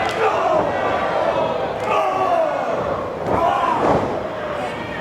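A wrestling crowd at a CCW event in Hialeah, Florida rumbles in a hall, a sustained murmur of cheering with a few sharp thuds from the ring, partly under a commentator's voice.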